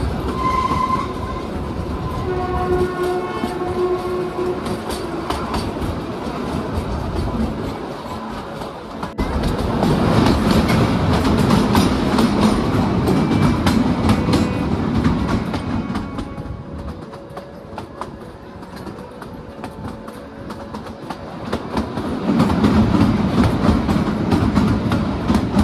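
Kalka–Shimla toy train rolling along mountain tracks, a steady rumbling clatter of wheels with rhythmic clicks that swells louder partway through and continues throughout.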